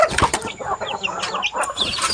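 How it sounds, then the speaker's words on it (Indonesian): Chickens cluck and chatter nearby in a busy, irregular stream of short, close clucks and squawks, with no talking. "Dia jadi berbicara dengan ayam."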